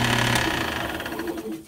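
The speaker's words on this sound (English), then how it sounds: "Now I'm taking this with sander here, and I'm making it even smoother" A power sander buzzes steadily while smoothing cut corners in a workshop, a close, loud rattling whir that fades out at the end.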